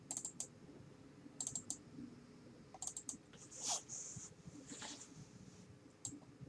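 Faint, close computer mouse clicks come in small clusters of sharp taps spread across a quiet room hum, with single clicks between the groups.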